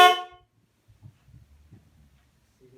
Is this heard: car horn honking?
yes